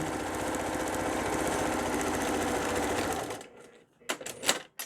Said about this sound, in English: And back stitching and sewing that straight seam.